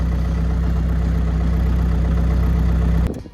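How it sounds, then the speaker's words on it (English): A skid steer loader's engine runs at a steady, loud idle with a deep, even low rumble, then cuts off abruptly near the end. "Once the engine is up and running"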